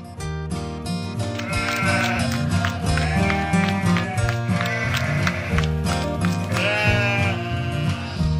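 Cartoon sheep bleating, repeated wavering bleats over a busy, loud music bed with hoof-like clip-clop patter running throughout.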